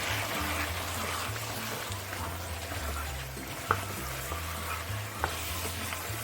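Chicken karahi with desi ghee and cooking oil frying in a pan, a steady close sizzle with a couple of sharp utensil knocks while being mixed, no talk.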